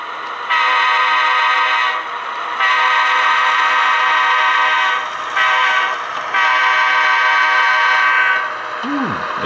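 A train horn blasts at a street crossing in long, loud near bursts, about four sustained blows with short gaps, heard from aboard a locomotive during local switching operations.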